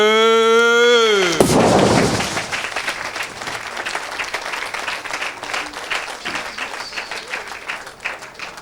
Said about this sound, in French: Acclamez-le.